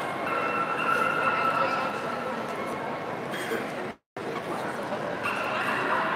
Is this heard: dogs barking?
yes